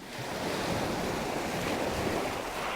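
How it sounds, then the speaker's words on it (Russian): Steady rushing of sea waves and surf, broad and continuous with a breezy, windy texture, no voices. "шум моря."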